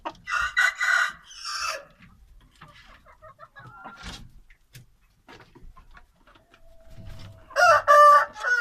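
An Indian game rooster crows nearby, with one burst at the start and another near the end, separated by quieter background sounds.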